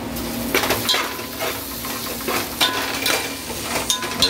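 A spoon stirs vegetable and mushroom dum biryani in a pot, giving close, irregular scraping and clinking strokes over a steady sizzle of cooking with no talk.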